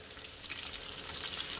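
Small puti fish frying in hot oil for a Bengali fish curry, a soft, continuous sizzle with light crackles, quiet and close.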